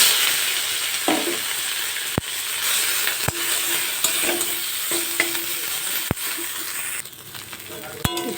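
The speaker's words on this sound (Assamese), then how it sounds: "এতিয়া চাটনিখিনি আমি আৰু অলপ ভাজি ল'ম।" Chutney fries in a hot pan, a steady sizzling hiss with scraping stirs and several sharp metallic taps of a spoon against the pan, close and moderately quiet, with no talking.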